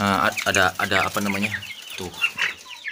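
A pair of feather-footed chickens kept on a family farm cluck loudly and close up in quick, repeated calls, while a person speaks briefly near the end.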